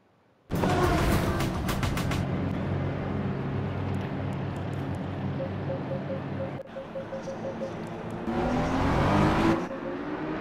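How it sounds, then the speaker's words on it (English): Simulated race cars surge away at a sim-race start at Imola, a loud, dense engine roar with revving pitch sweeps from several cars, sustained throughout apart from a brief dip. "So as we watch the race start here, we are green racing."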